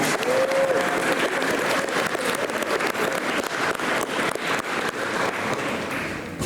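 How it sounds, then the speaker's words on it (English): A school audience gives a sustained round of applause for a group of students about to speak, dense hand clapping with scattered louder claps throughout. "Let's give them all a round of applause."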